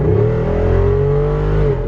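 A 2021 Jeep Wrangler Rubicon 392 with a HEMI V8 revs hard, its loud, close exhaust holding a deep, steady roar with strong low harmonics that sag slightly near the end.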